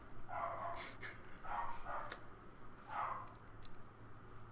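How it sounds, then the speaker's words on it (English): A dog barks a few times in short, moderately distant bursts over a low steady room hum, with gaps between each bark. "Why the fuck does this dog have to bark all the goddamn time?"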